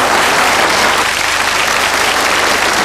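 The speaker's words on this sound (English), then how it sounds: "Big round of applause from ladies and gentlemen." Sustained studio audience applause on a game show, dense and loud throughout with no break.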